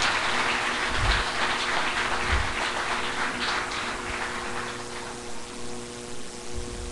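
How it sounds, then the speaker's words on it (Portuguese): Church congregation applauding after a prayer, a steady broadband patter of many hands clapping that holds throughout and thins slightly toward the end, with no talk over it. "Você pode aplaudir ao Senhor"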